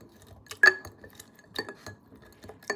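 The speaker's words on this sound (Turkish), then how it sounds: "Ve yine alıp frenk üzümlerini ezelim." Wooden spoon crushing currants inside a glass jar, sharp irregular clinks and knocks against the glass with short scraping strokes between them, close and fairly loud, without speech.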